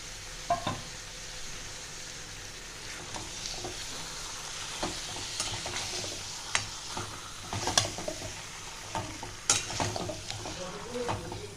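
Mutton pieces being stirred with spices in a sizzling pan: a constant frying hiss under irregular scrapes and clinks of a spoon against the metal, fairly close and moderately loud.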